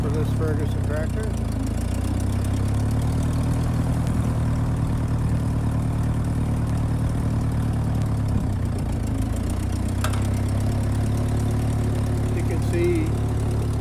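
A 1951 Ferguson TEA20 tractor engine idles with a steady low rumble and chug throughout, close and loud, with someone talking faintly over it.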